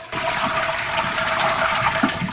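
A toilet flushes with its water supply shut off, a loud, close, continuous rush of draining water lasting a couple of seconds with no refill following.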